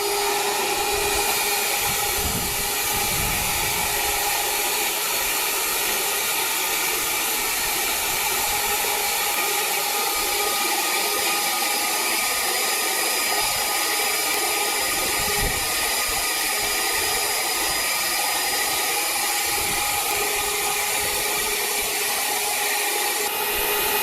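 A household vacuum cleaner drives a homemade oil extractor, its motor whining in a steady, continuous drone with a faint tonal hum, running alone and unbroken throughout.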